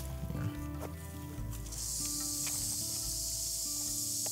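A snake makes a steady, high-pitched buzzing hiss that sets in and holds, like cicadas droning, with low rumbling underneath throughout, on the Appalachian Trail.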